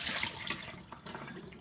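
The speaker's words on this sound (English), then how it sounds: "start by taking out the top and just dump out the water." Water is poured out of the top chamber of a Berkey gravity water filter, a short splashing gush that gradually eases off.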